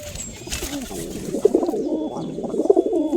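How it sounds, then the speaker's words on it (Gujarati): A Punjabi female pigeon coos close by in low, throaty, repeated rolling calls, with a brief voice early on and a faint background hum. "પંજાબી કબૂતરી"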